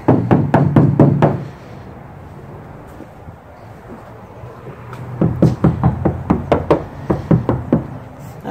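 Knuckles rap on the uninsulated door panel of a Mercedes Sprinter van, a quick burst of about six knocks, a pause, then a longer run of a dozen or so hollow, tinny knocks, close and loud.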